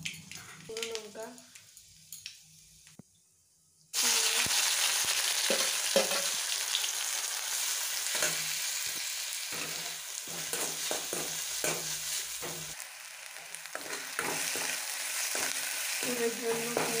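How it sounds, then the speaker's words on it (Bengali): Onion, ginger, dried chilli and panch phoron fry in hot oil. A quiet stretch with a few clicks gives way to a sudden loud, steady sizzle broken by stirring knocks and scrapes, with a voice heard faintly. "এর জন্য পেঁয়াজ, আদা, শুকনো লঙ্কা, পাঁচফোড়ন সব দিয়েছি"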